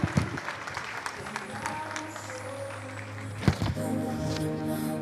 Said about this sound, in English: With a warm, rousing applause.